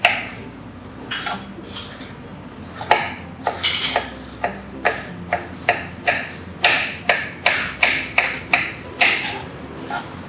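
A knife chops peppers rapidly against a cutting board, sharp knocks coming in quick irregular runs that speed up toward the end.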